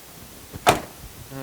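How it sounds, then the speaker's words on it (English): A single solid thunk of a 1967 Pontiac GTO door shutting, short and fairly close, amid quiet surroundings. "And again, the door shuts nice and even."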